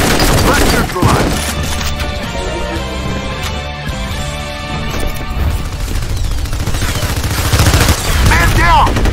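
Dense, loud gunfire from F.E.A.R. Combat multiplayer, bursts of shots and impacts layered over game music and callouts, with a rising crackling volley near the end.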